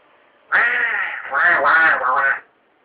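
During a theatre rehearsal, a person imitates a duck with a long, harsh, nasal quack, drawn out for about two seconds in a few wavering pulses.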